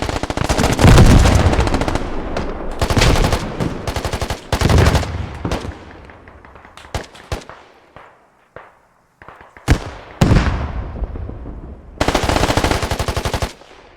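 Gunfire from the military shooter game Squad during a competitive scrim: loud sustained automatic bursts and scattered single shots, with long rattling volleys separated by brief pauses.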